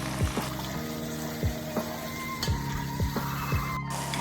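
Chicken curry spices sizzle in a pan with kaffir lime leaves and bay leaves, a steady frying hiss broken by regular scraping strokes of a spatula roughly every half second, close and moderately loud.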